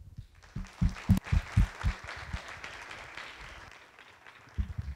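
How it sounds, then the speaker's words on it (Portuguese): An audience applauds at the close of an economics lecture on Austrian business cycle theory. The clapping is a scattered, moderately loud burst that thins out and then briefly picks up again at the end. "com uma salva de palmas"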